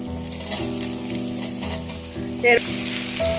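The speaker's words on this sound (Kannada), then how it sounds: "ಈಗ ನಾನು ಮಶ್ರೂಮನ್ನು ಹಾಕ್ಕೊಳ್ತಾ ಇದ್ದೀನಿ" Sliced mushrooms fry in a pan of oil for mushroom biryani, giving a steady close sizzle with tonal kitchen background and a few brief clinks, and no talking.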